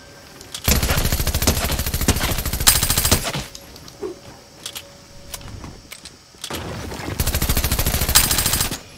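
Rapid automatic gunfire in a video game comes in two loud sustained bursts at the start and end, with quieter game sounds and clicks in the gap between them.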